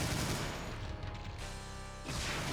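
Chaingunner enemies in Doom with the Brutal Doom mod on Hell Revealed II, loud dense overlapping rapid gunfire that rattles on without pause amid a chaotic battle.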